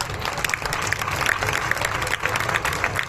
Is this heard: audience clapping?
yes